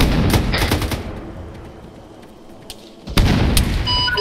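Gunfire in the Arma 3 military shooter during a MARSOC co-op operation: a burst of sharp automatic shots up front, a quieter lull, then another loud volley of rapid firing near the end, with no talking over it.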